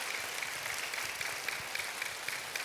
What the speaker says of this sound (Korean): 한번 박수를 드리면 좋을 것 같아요.